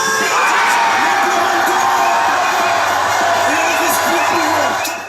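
A dense crowd of French football supporters roars and cheers continuously during the World Cup final, with shouts and whoops blending into a loud, sustained wall of sound.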